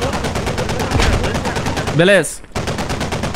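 Rapid gunfire rattles steadily throughout in the video game Squad, with a heavier artillery cannon blast near the middle followed by a brief whooshing sweep; a voice speaks briefly.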